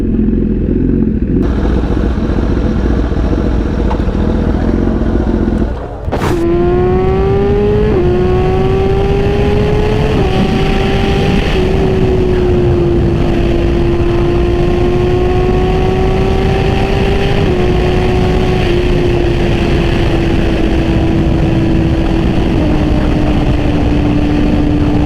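A motorcycle ridden at a bike night hums loudly and steadily up close, its engine shifting up through stepped gear changes over a constant rushing wind roar.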